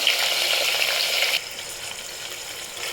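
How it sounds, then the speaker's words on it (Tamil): Onions sautéing in hot oil for dried-fish biryani give off a dense, steady sizzle and crackle, close and continuous, dropping somewhat in intensity partway through as the frying settles. "வெங்காயத்தை சேர்த்து நல்லா வதக்கிக்கோங்க"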